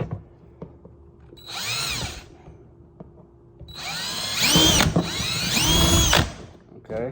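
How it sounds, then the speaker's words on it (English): A power drill bores into the top of a solar battery box in two bursts: a short whine first, then a longer, louder run with rising and falling pitch, separated by quiet pauses with small clicks. "I'm going to drill into the top of this"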